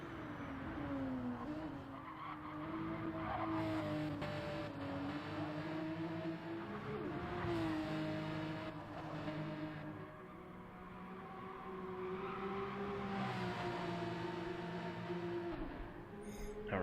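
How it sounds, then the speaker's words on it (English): Porsche 911 RSR race car on track in a GT racing game, its engine droning steadily with rising and falling pitch through gear changes and some tyre squeal, continuous and fairly close for the whole stretch. "another Porsche 911 RSR is out on track here"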